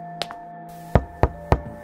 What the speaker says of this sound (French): elle frappe à la porte